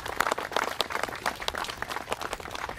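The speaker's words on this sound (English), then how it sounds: "Let's give him a round of applause." Audience applause at a military appreciation week kickoff ceremony, a steady spread of many hands clapping throughout, moderately loud and without speech.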